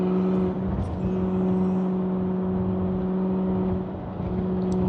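A McLaren 600LT sports car rolls along at a steady pace, a loud constant engine drone with a firm low hum and tonal whir, close and unbroken, with a slight dip near the end and no speech.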